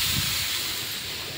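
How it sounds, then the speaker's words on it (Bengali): Broth is poured into a hot pan of browned, fried chicken, and it sets off a loud, close burst of steamy hissing that holds evenly for about a second and a half before easing slightly. "এখন আমি ঝোল দিয়ে দিচ্ছি।"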